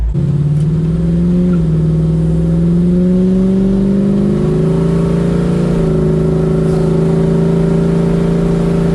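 A 1969 Camaro with a 454 big block, new headers and brand-new mufflers idles and revs up, producing a loud, steady, deep exhaust note that rises gradually and then settles, heard alone without talk.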